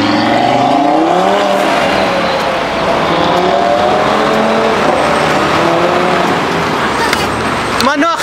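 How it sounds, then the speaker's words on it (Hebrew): A loud five-cylinder car engine roars continuously, its pitch sweeping up and down as it revs and shifts, with tires briefly squealing near the end. "מנוע חמישה צילינדרים"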